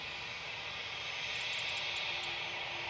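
A Trident or DC-10 airliner moving past at Manchester Airport gives a steady, broad jet roar with hiss, constant and fairly loud, with no talking over it.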